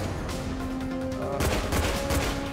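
Rapid bursts of gunfire in the video game Chronicles of Riddick, dense crackling shots layered over a droning game soundtrack with sustained tones, loud and continuous for a few seconds.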